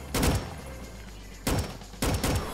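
Roblox Dusty Trip gunfire arrives in three quick bursts of sharp cracking shots separated by short pauses, fairly loud and with no talk over them.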